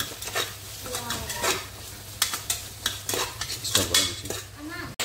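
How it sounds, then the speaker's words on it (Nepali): A spoon stirs salt into buff curry in a pan, with repeated scraping and clinking of metal against the pan and a soft sizzle underneath, steady and close. "यसमा नुनमा चाहिँ मजाले चलाउँछु त्यसरी"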